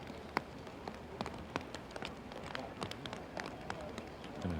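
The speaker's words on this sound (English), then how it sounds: "As the rain, I'm sure you can hear, starts to pelt down" Heavy rain pelts down on a golf course during a final-round tournament, a steady faint hiss dotted with sharp scattered patters and drops, distant and low in level throughout.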